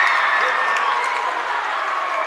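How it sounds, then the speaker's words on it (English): A basketball gym crowd cheers and claps after a made free throw, a dense, steady roar of applause with a voice over it throughout. "Crowd's starting to get a little louder."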